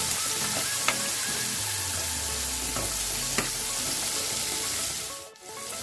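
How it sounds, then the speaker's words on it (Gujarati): Curry leaves, chilies and onions for batata poha fry in a hot pan, giving a continuous close sizzle with a few sharp crackles and a brief stirring scrape near the end. "હવે આપણે એની અંદર આ કડી પત્તા બી નાખી દઈશું, આ મરચાં બી નાખી દઈશું અને આ કાંદા નાખી દઈશું"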